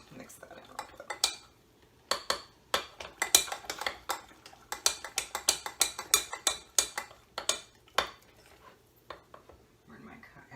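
Utensil stirring ingredients in a measuring cup for a gluten-free breakfast: a fast run of close, sharp clinks and scrapes, loud and busy for most of the stretch, with a brief pause near the end.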